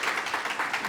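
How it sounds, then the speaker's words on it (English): Brief burst of crowd applause for a graduate at a graduation event, steady clapping from many hands for under a second, fairly loud with no talking. "Round of applause."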